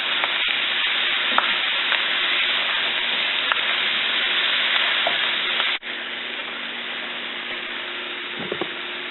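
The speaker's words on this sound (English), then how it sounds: "so they don't burn to the pan when it starts cooking all those vegetables together" Vegetables sizzling loudly as they fry in a black roux for gumbo, a steady hissing crackle with occasional stirring clicks, dropping slightly in level partway through as the cooking continues, no talk.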